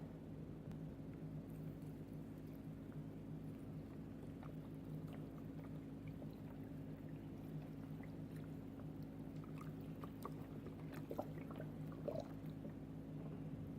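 Chicken broth poured into a pot for roasted butternut squash soup, a faint steady liquid pour over a constant low hum, with a few small splashes near the end.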